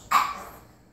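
A pug lets out a single short, nasal, goat-like bark, close and fairly loud, then a quiet tail-off with nothing else following.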